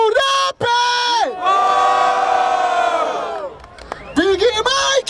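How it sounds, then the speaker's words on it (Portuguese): Crowd at the grand final of a Brazilian rap battle in Barueri, São Paulo, roaring with loud sustained shouts and cheers, breaking off briefly, then rising again in bursts of whoops. "Escolhe um e grita com muito barulho, beleza? Barulho para as rimas do rap!"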